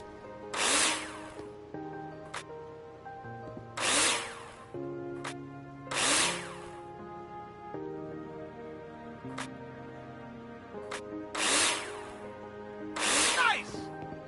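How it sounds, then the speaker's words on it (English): A power drill drives screws into plasterboard in a video game, several short whirring bursts about two seconds apart, each loud and close, with a voice talking between them. "Take your drill out and screw them in."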